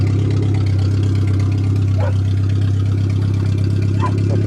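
A Suzuki Swift 1.3 engine runs at a steady idle, a loud continuous low hum with a constant throb, close by, with someone speaking briefly over it.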